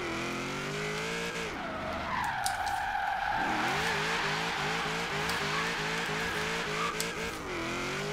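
A V8 race car in a video game revs and shifts through gears with a steady engine drone, while tires squeal and skid loudly through a long slide; the engine sound stays continuous and close throughout.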